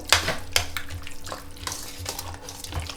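A spoon scrapes and clinks against a metal pot in repeated stirring strokes through zucchini spread with tomato paste and sugar, with a low background hum and no talking.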